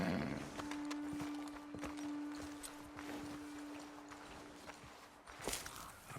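Horses standing after their riders dismount in Red Dead Redemption 2: soft hoof steps and clip-clop with shuffling movement and a brief snort, set against a steady outdoor ambience. A low hum runs through most of it.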